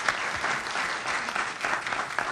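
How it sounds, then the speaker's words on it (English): Audience applause at a 2006 Illinois elections panel discussion, a steady, dense patter of clapping from a room full of people sustained without a break, with no voices over it. "Have a round of applause."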